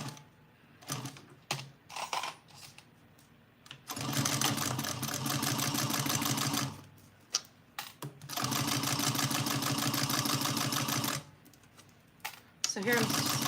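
A sewing machine stitches an Araki Box Bag set at a 3/8 inch seam, running in long steady bursts of rapid mechanical whirring separated by brief pauses, with quiet handling noises between runs.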